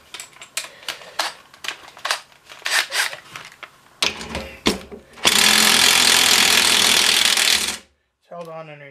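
A ratcheting wrench loosening a half-inch bolt during a restoration teardown, quick clicking bursts in irregular runs, followed by a long harsh mechanical buzz that stops abruptly.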